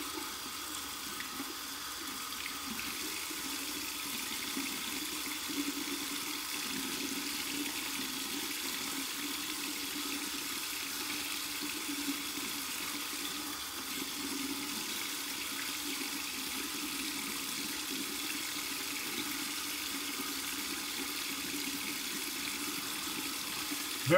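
Tap water runs steadily from a faucet over an alum block for a long stretch, a constant soft hiss and splash at low level with no talking.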